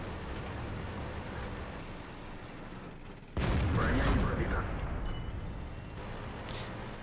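A World of Tanks tank cannon fires a single loud, heavy boom partway through, with a rumbling tail over steady engine and battle noise.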